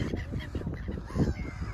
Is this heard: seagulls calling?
yes